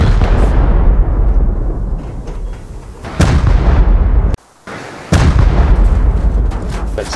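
Heavy rocket launcher blasts and explosions in Rust PvP raid, loud booming impacts with sustained roaring rumble, a sudden silent gap, then more blasts resuming.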